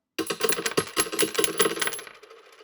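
Gold coins spill and clatter in a rapid cascade of bright metallic clinks, close and loud for about two seconds before the jingling stops abruptly.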